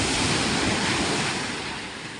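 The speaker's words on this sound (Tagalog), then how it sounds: "Ang ganda ng dagat." Sea surf roars steadily along the coast as a dense, continuous wash of breaking waves. Wind noise mixes in, and the sound fades slightly toward the end with no voices.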